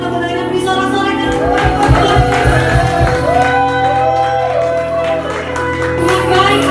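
Congregation at an Indonesian Sunday worship service cheering and shouting praise, a loud, steady crowd roar of voices with sustained tones running underneath for the whole stretch.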